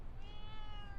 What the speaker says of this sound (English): My cat wants to say hi.